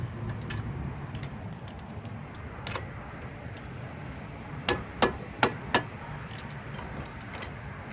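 Work on the car's caliper bracket bolts produces four sharp, close metallic knocks in quick succession, set against a steady hum of background noise and a few fainter taps, with no talking.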